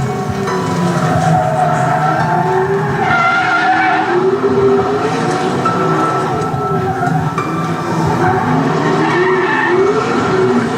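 A 900-horsepower drift car slides with loud, continuous tire squeal over a roaring engine, sustained and close for about ten seconds with no talk.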